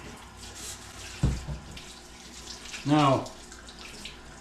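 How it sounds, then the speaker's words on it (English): Tap water runs into a kitchen sink as hands are washed after preparing meat for beef jerky, with short splashy bursts near the mic and a voice speaking briefly over it. "Wash my hands real quick."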